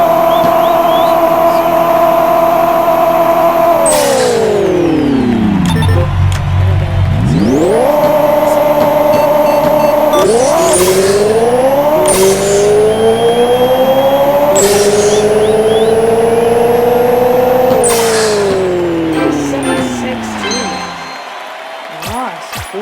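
A video-game Honda Civic drag car tuned past 1800 horsepower screams through rising revs and sharp gear shifts, its loud engine whine climbing, dropping and climbing again before cutting out, with a voice talking over it.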